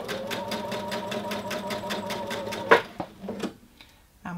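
A sewing machine runs a straight stitch along a princess seam, a fast, even rhythmic clatter for about three seconds, then stops with a few soft clicks and handling noises.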